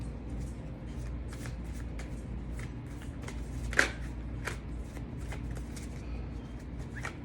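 Tarot and oracle cards are shuffled by hand in a quiet room, a run of soft riffling bursts and papery flicks repeating steadily at close range, with one sharper snap midway.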